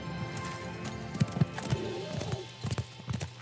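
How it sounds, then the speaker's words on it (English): A brown horse mount in Ashes of Creation clip-clops with hollow hoofbeats in an uneven rhythm, close and moderately loud over a faint background hum. "let's buy a brown horse"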